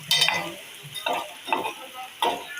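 Onions stirred and cooking in a pan for Gujarati mandvi kadhi: four distinct scraping stir strokes over a steady close sizzle, no talk.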